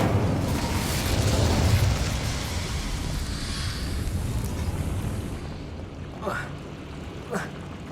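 A roaring Incendio fire spell cast in Hogwarts Legacy, with a loud, dense burst of flame that swells over the first two seconds and then settles into a fading crackle as a couple of brief voiced sounds follow.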